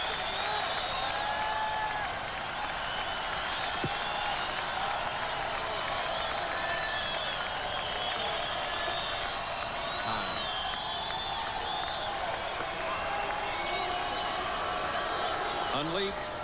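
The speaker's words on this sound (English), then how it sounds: "Crowd on its feet again." Baseball stadium crowd on its feet during a Reds–Dodgers game, a dense continuous roar of cheering and whistles from a large distant crowd that stays steady throughout.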